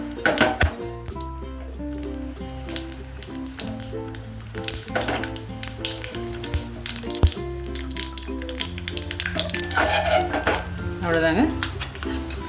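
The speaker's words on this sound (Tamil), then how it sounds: "ப்ளஸ் கடுகும் இந்த வரமிளகா ஒன்று போட்டு தாளிச்சு கொட்டிட்டா போதும்." Mustard seeds and a dried red chili temper in hot oil for a greens curry, crackling and sizzling while a spoon scrapes and stirs against the pan, with steady music playing underneath.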